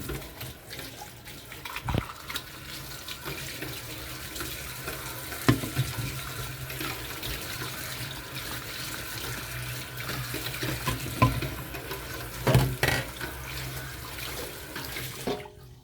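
Dishes being rinsed under a running kitchen tap, a steady broadband rush of water with occasional clinks and splashes of plates, close and continuous for the whole stretch with no talking.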